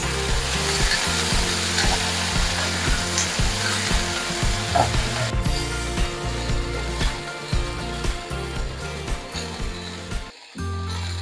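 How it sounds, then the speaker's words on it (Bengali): Vegetables fry in hot spiced oil for a bitter gourd curry, a steady close sizzle and crackle over a low rhythmic hum, with scraping stirs toward the end. "এই মশলা ফোড়নের মধ্যে দিয়ে দিয়ে এই সবজিগুলোকে ভালোভাবে একটু ভাজা করে নেব"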